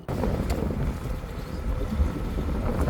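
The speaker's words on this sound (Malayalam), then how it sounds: "ചെറിയ തണുത്ത കാറ്റ് വീശിക്കൊണ്ടിരിക്കുന്നുണ്ട്" Steady wind blows against the microphone at sea on a deep-sea fishing trip, a low continuous rushing roar with no voices.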